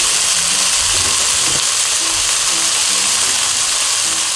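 Eggplant fries in an oiled pan, giving a steady bright sizzle across the whole stretch, with light scraping and clicking from stirring underneath.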